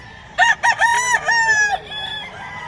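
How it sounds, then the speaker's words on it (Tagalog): A rooster crows nearby at a pet market in Bocaue: a few choppy opening notes, then a long drawn-out call that trails off, loud and clear over faint background noise. "Yung mga manok nila."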